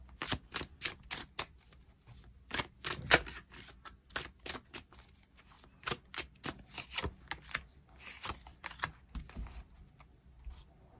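A deck of tarot cards is shuffled close by, a steady patter of sharp papery clicks and flicks in quick irregular bursts, heard alone without any voice.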